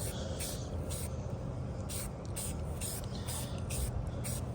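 Spray paint is lightly misted from roughly a foot away onto an AR15 rifle: a series of short, soft, hissing bursts repeats at a steady rhythm over a faint background hum.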